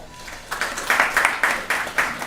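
An audience applauds at a National Science Day celebration, breaking into a burst of steady, moderately loud clapping from many hands that continues to the end.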